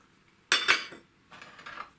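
Utensils clink and scrape against a bowl while lemon juice is stirred into raw chicken for an air-fried Lahori chargha, two short bursts of mixing separated by a pause, close and fairly quiet.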